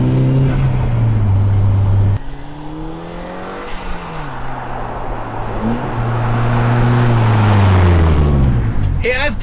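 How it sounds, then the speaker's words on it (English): Suzuki Vitara running a turbocharged Nissan Sylvia CA18DET engine at 280 brake horsepower drones loud and close, its pitch dropping on a gear change and then climbing steadily as it accelerates under continuous rumble. "we've got a Nissan Sylvia CA18DET engine running at 280 brake horsepower"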